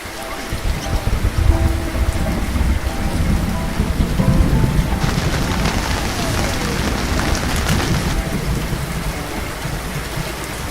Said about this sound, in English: Oh, and it's raining too.